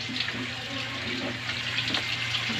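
Water runs steadily from a tap as a baby bathes at home on a hot day, a continuous close splashing rush that stays even and loud throughout without talk.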